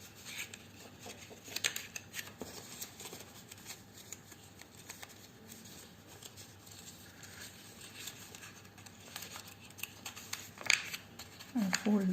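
Paper creased and folded by hand into an origami lily, soft close rustles and crisp rubs under a quiet, steady background with faint speech.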